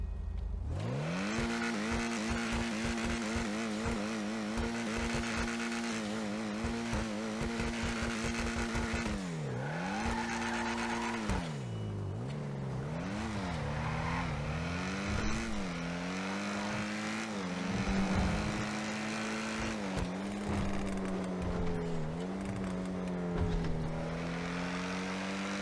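A Lampadati Komoda sports car engine in GTA Online revs and shifts repeatedly, pitch climbing and dropping through gears, loud and close, continuous for the whole stretch.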